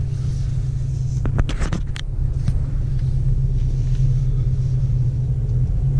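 Steady low rumble of a Dodge Hellcat four-door car driving forward, engine drone close and continuous with a few brief clicks early on, no talk.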